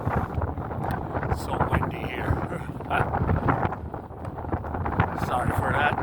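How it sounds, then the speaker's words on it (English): Wind buffets a handheld microphone outdoors in South Korea, producing steady low rumbling gusts throughout, heard under a person talking close to the mic. "so windy"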